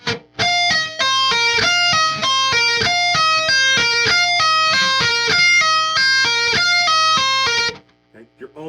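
Electric guitar playing a fast hammer-on and pull-off legato lick from a guitar solo, repeating a quick three-note pattern loudly and continuously for about seven seconds before stopping abruptly.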